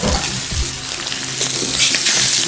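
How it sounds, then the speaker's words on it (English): Thick lamb shanks searing in a hot pan for braised lamb, a steady close sizzle and crackle of fat running the whole time with a few light clatters and no talk. "So we're just going to sear these on both sides."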